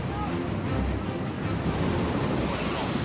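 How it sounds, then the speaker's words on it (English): Large ocean waves breaking on a beach, a loud continuous roar of surf with wind buffeting the microphone throughout. "he notices a set of unusually large waves heading toward a small group of picture takers"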